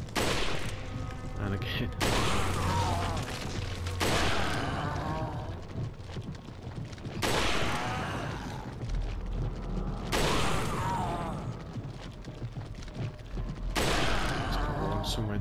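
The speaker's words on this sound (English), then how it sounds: "Get out your trusty sniper." Sniper rifle shots from the video game Resident Evil 4 ring out in several separate loud bursts spaced a few seconds apart, each trailing off, with someone talking briefly between them.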